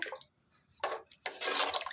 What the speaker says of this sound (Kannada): ನೋಡಿ ವೀಕ್ಷಕರೇ, ಒಂದು ಕುದೀತಾ ಇದೆ